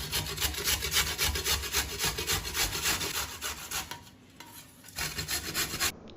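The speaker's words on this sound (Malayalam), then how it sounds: "നമുക്കിനി ഇതെല്ലാം ഒന്ന് ഗ്രേറ്റ് ചെയ്ത്" Carrots for halwa being grated by hand, with rhythmic rasping strokes repeated quickly and close, a brief pause, then a few more strokes and no talk.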